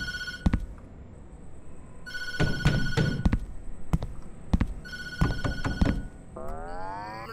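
A telephone rings inside the Tattletail video game, with several loud repeated bursts of the bell spread across the stretch and a rising electronic tone at the end; nobody speaks.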